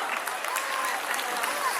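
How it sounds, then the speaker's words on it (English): A school audience at an honouring ceremony gives a warm round of applause, a continuous, even wash of many hands clapping throughout. "Give a warm round of applause for her."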